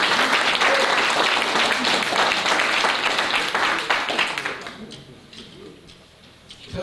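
Audience applause at a variety show, loud and dense for about four seconds, then thinning out and fading to a quieter murmur with a few scattered claps.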